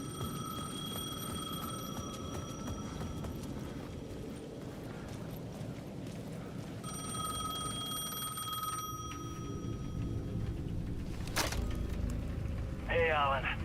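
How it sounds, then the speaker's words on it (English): A payphone at the edge of a plaza rings in the Alan Wake 2 video game, repeated ringing bursts over a steady ambient background with a sharp bell-like tone later on. "The payphone at the edge of the plaza was ringing again."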